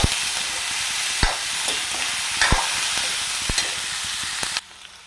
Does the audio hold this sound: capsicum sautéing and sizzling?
yes